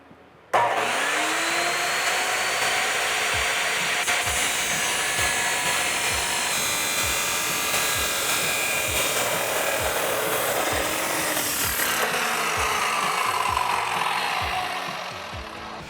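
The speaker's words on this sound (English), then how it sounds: "Now that we have our pipe cut," Steady, loud rasping saw cuts through the exhaust pipe of a Roush single exhaust system with black Y-pipe tip for a 2011-2014 Ford F150 5.0L, a continuous close grinding scrape lasting about fifteen seconds before trailing off.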